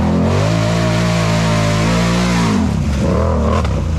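A Can Am Renegade ATV engine revs hard in four-wheel drive, a loud, close, sustained drone that holds steady, then shifts and wavers in pitch as the throttle changes near the end.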